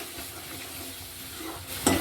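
Fish curry masala with turmeric and salt frying in a pan, a soft continuous sizzle with light stirring and a brief louder clink of utensil against pan at the end, close and fairly quiet.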